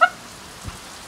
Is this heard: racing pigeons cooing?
no